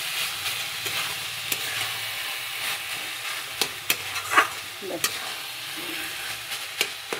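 Grated radish cooking in a little ghee in a pan as a Bengali radish ghanto, with a soft steady sizzle and repeated scraping clicks of a spatula stirring. The sound is quiet and close, with no voices.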